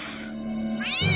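A cat meows loudly and close, a single drawn-out cry that rises into a strained, wailing caterwaul at the end, with no talking.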